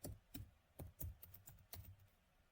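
Soft, quiet keystrokes on a computer keyboard, a quick irregular run of separate taps close by with no talking.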